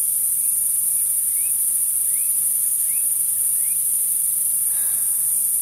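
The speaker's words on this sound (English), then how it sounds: "The different sounds, cicadas, crickets, birds." Crickets chirp steadily across the whole stretch in a dense, continuous high-pitched trill, with a few faint brief calls rising above it and no talking.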